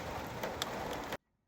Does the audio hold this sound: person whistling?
no